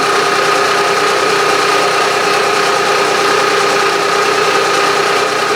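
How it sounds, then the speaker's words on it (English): A Bridgeport milling machine climb mills a crank adapter, giving a loud, steady mechanical drone and whine that holds evenly throughout with no break. "Feed out, I am climb milling"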